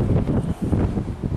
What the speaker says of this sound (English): God, it's windy up here on this footpath.